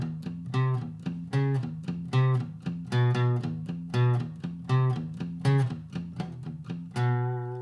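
A riff played slowly on guitar, a steady chugging run of low palm-muted notes broken by higher picked notes, with one note left ringing at the end.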